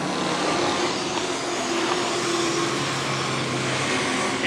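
Race cars at Carina Speedway during an AMCA Nationals final produce a loud, continuous engine roar with broad, steady noise and no break.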